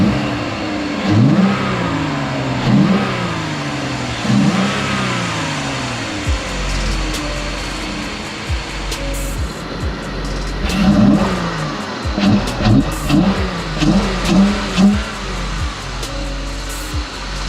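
Jeep Grand Cherokee engine fitted with an Apexi open air intake, repeatedly revved up and let fall back to idle, close and loud, with a series of rising and falling bursts and no talking.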